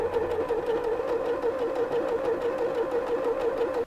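An Usha Dream Maker embroidery sewing machine stitches a simple fill pattern, its needle running in a steady, fast, even rhythm that stays loud and close, with no talk, until it stops abruptly at the end.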